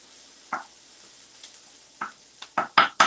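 Onions browning in a pan, cooked over moderate rather than very high heat, with a quiet background hiss broken by a few scattered clinks and stirring scrapes that grow louder toward the end.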